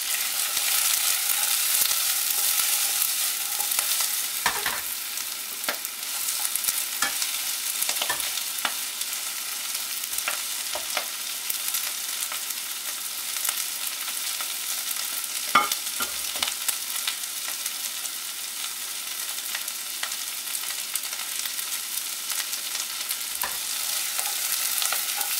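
Broccoli stir-fries for a vegan Pad Ki Mao, with a continuous close sizzle and occasional scrapes and taps of a utensil against the pan, with no talking.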